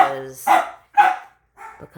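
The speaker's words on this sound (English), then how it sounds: "this one is Hokey that's barking." A dog barks in a few excited bursts, close and loud, with short pauses between them and a softer yip near the end.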